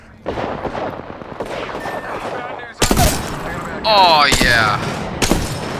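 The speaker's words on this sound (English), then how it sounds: "I hear shots. On the bridge." Gunfire rings out in Apex Legends near a bridge, with sharp, loud bursts of rapid shots and booming impacts over game ambience. Someone briefly speaks.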